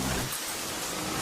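Heavy rain pours down in a dense, even hiss of noise that holds steady throughout, with no voices.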